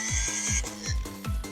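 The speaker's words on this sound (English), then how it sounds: "carefully drill a hole" A power drill bores a hole in short bursts, four quick spin-ups in about a second and a half, each rising whine ending with a dip, close and fairly quiet.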